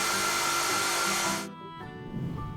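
A household vacuum cleaner runs with a loud, steady broadband roar that cuts off abruptly partway through, leaving a quieter tonal hum.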